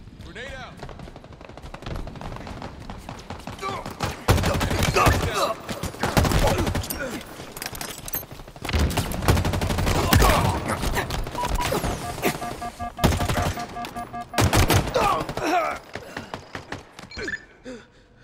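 Video game gunfire in Halo Infinite, with bursts of rapid automatic shots and mechanical clatter in several clusters, loud and close, mixed with someone talking.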